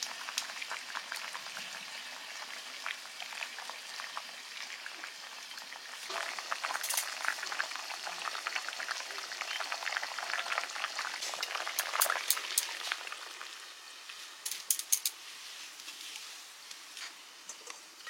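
A tilapia fish curry with new potatoes bubbling in a pot, soft steady simmering with scattered louder pops and crackles close by.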